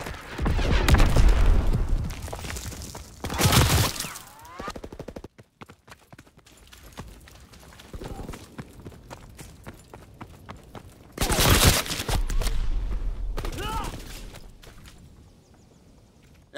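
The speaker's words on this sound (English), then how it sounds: "Enemy mortar fire incoming!" Enemy mortar fire and gunfire in the video game Call of Duty WWII, with two long bursts of heavy booming blasts separated by scattered sharp shots and crackling rounds.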